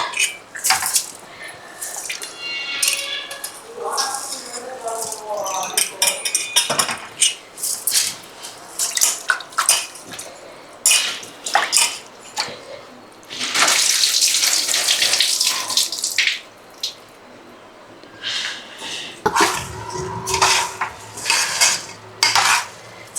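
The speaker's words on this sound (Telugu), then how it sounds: "బియ్యం వేసినాక కొంచెం వేయించుకోవాలన్నమాట." Uncooked plain rice, not biryani rice, is stirred and roasted in a pressure cooker for chicken pulao, with repeated scraping and clinking of a metal spoon against the pot in irregular bursts, alongside some watery splashes.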